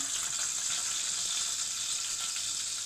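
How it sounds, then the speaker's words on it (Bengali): Tomato, sliced green chili and chopped onion fry in a hot pan, giving a steady, close, even sizzle that continues unbroken with no voices. "টমেটো, কাঁচামরিচ ফালি আর পেঁয়াজ কুচি, এগুলো দিয়ে এখন ভাজবো"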